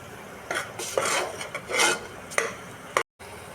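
Spoon scraping and stirring ground masala paste in hot oil in a pan, making repeated rasping strokes at close range, with a brief moment of silence near the end.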